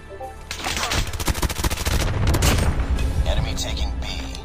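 Dense gunfire in the mobile shooter Call of Duty Mobile during a close-range fight, loud rapid bursts and booms filling the whole stretch, with voices mixed in underneath.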